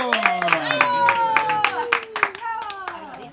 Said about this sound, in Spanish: Un aplauso para El Águila de Guamuchi.